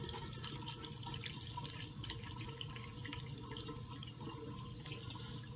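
Water pours steadily into a homebrew grapefruit shandy wort, filling the batch toward five and a half gallons, with a continuous close splashing and trickling wash and no talk.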